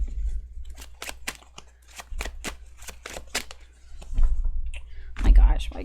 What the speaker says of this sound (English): why can't I like fucking shuffle things without dropping?